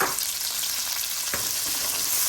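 Steady close sizzle of an ingredient being stir-fried in hot oil with garlic, a continuous crackling hiss with a brief clatter midway, no voices.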